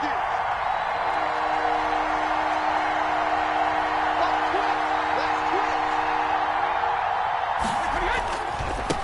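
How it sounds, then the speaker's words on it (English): Football stadium crowd builds ahead of a big third down, a dense sustained roar of cheering under a commentator's voice, with a sharper burst of noise near the end. "the crowd getting into it as we come up on a big 3rd down"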